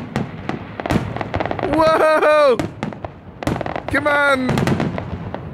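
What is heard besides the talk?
Fourth of July fireworks exploding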